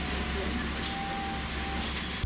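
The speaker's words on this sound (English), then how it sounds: "It's actually the same train type as the Berumonta, but with a standard interior." Scenic train of the Berumonta type with a standard interior, running through Toyama Prefecture, heard from inside as a steady low rumble of wheels on rails with a faint sustained tone, close and continuous throughout.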